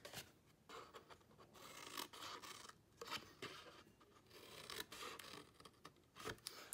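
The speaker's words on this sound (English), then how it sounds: "And then you're gonna cut with your scissors," Scissors snip and slice through paper in a quiet series of short, crisp cuts with brief pauses, close by and without talk.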